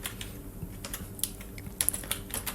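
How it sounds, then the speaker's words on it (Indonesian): Typing code on a computer keyboard: soft, irregular key clicks at close range, with a few sharper, louder taps toward the end and no talking. "Nah, di sini kita ketik bikin variabel ya."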